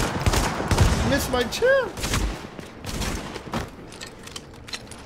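SASG 12-K shotgun blasts in The Division, a few heavy booming shots at close range under excited shouting from a player.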